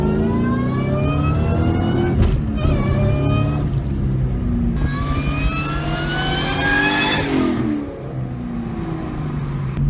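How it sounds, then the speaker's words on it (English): Supercharged V8 of a 600 hp 2003 Mustang Cobra accelerating hard, a loud, close engine roar with rising whine climbing through several gears, pausing briefly between shifts, with no voices over it. "the Cobras just make such a glorious noise"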